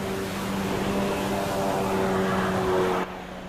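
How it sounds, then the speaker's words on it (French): A jet ski engine drones steadily on the open sea among large waves, a constant low hum with broad rushing noise, then drops abruptly quieter near the end. "Seul sur le jet ski, Gauthier fonce le récupérer entre deux vagu"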